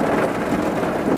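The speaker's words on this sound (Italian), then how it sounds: "Madonna, se piove." Heavy rain pours down in a loud, steady roar, close and unbroken for about a second.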